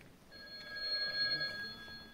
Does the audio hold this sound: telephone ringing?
yes